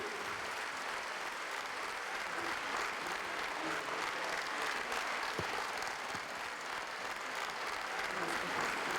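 Applause at an anniversary concert, sustained even clapping from a large hall audience, distant and smooth, continuing without a break.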